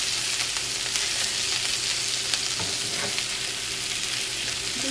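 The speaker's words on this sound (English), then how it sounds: "Giving it a light toss so that the butter gets on all of the asparagus there" Asparagus sautéing in garlic herb butter in a pan gives a continuous close sizzle, with brief scraping and tossing sounds partway through as the spears are moved around; no one speaks.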